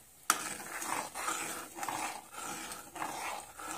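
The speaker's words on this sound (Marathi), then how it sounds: "तयार केलेले बेसन आपल्याला अनेकदा हलवून घ्यायचं चमच्याने व्यवस्थित" Thick besan batter for Maharashtrian pithla being stirred with a spoon, a wet scraping swish repeating in steady strokes, close and fairly quiet after a sharp initial knock.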